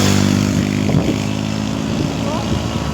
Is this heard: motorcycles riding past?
yes